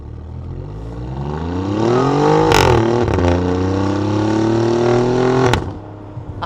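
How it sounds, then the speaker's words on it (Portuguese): Lamborghini Centenario V12 revving hard from inside the car, rising to a loud roar, dipping briefly as the paddle shifter changes gear, then climbing again in a sustained howl before backing off sharply. "uma Lamborghini Centenário. Vamos dar uma aceleradinha?"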